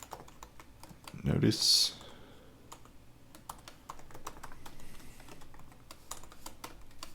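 A computer keyboard clatters in steady bursts of keystrokes while someone codes, a brief spoken word breaking in near the start before the typing carries on alone, moderately close.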